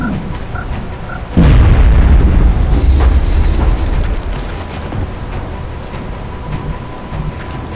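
A grenade goes off in XCOM: Enemy Within, a single loud, close boom with a deep rumble that rolls on for a couple of seconds, then a noisy, rain-like hiss lingers behind it.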